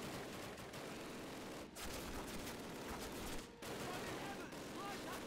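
Dense gunfire in the Call of Duty video game rattles on as continuous automatic bursts, fairly faint overall and broken by two brief drops, with a voice talking over parts of it.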